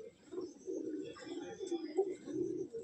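Lambadi pigeons from Andhra Pradesh, including a Lambadi female and a Phulshira pigeon, coo in low, steady bursts close by while someone talks over them.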